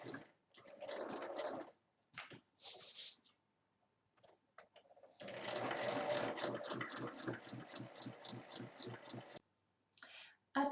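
A domestic sewing machine stitches a makeup bag in short bursts, then runs in one long steady run of rhythmic needle chatter, close by. Brief stretches of quiet break up the stitching.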